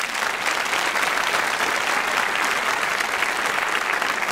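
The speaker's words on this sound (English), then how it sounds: "let's give them all a round of applause." A large crowd at a university doctoral hooding ceremony gives a sustained round of applause for the candidates, a dense, even roar of clapping from a big hall, loud and steady throughout with no talking.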